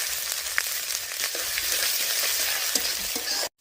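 Chopped ginger sizzles steadily in hot oil with garam masala, cumin, asafoetida and bay leaf, a loud, close, continuous hiss with small crackles and no talking, cut off abruptly at the end.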